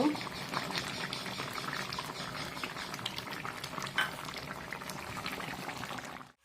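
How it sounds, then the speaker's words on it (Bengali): A curry of potato, Malabar spinach stems and crab boils steadily in a pot, a dense close bubbling that runs throughout before cutting off at the end. "তেলে যে তরকারিটা দিয়েছিলাম সেটাও খানিক্ষণ সিদ্ধ করে নিয়েছি"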